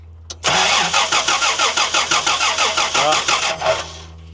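A 1990 Toyota LandCruiser that has sat unused for years cranks loudly up close, the starter churning in a steady rhythmic whirr for several seconds without the engine catching.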